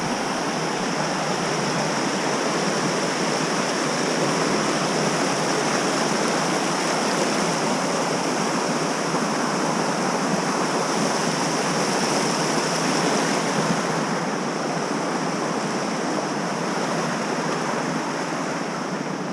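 Steady rushing of a creek along a forested hiking trail on the North Fork Skokomish River, a continuous broadband wash of flowing water holding even and fairly loud throughout, with no voices.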